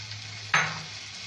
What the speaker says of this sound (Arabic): هضيف بقى الرز كده مغسول